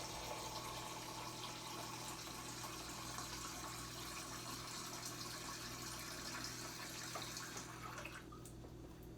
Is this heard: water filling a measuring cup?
yes